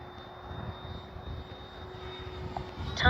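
An E-flite Habu SS electric ducted-fan RC jet on a 6S battery flies overhead, its steady whooshing whine continuous and fairly close, swelling slightly louder toward the end.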